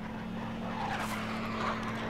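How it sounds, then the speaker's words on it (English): A friendly armoured personnel carrier's engine in the military shooter Project Reality, a steady droning rumble with a sustained low hum, moderately loud and without any talk. "No, mate, I think it's a friendly APC."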